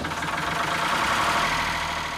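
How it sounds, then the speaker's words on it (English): A very noisy diesel generator powering a rural farm runs steadily, a continuous droning engine hum with a slight knocking texture, close and alone with no talk. "his farm, like all the properties here, is powered by a very noisy generator."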